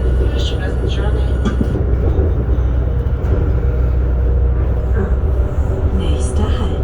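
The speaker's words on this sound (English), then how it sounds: "We welcome you on board train from Buchloe to Füssen, calling at all stations." A passenger train rolls between Buchloe and Füssen, a loud steady rumble heard from on board with a spoken announcement over it.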